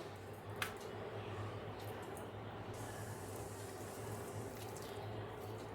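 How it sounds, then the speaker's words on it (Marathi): Water is poured into idli batter made with vermicelli, semolina, chopped capsicum and coriander, a faint continuous trickling splash with one small tap early on. "थोडं पाणी ॲड करते"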